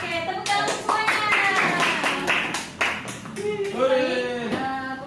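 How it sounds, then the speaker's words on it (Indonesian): Classroom group clapping in a teaching session, rhythmic claps in counted bursts with children's voices and talk mixed in. "Oke, tepuk tangan semuanya."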